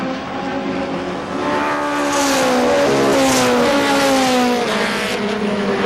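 Race trucks at KilKare Speedway scream past, engine notes rising then sweeping down as a pack goes by close and loud, with a faint tire squeal in the mix.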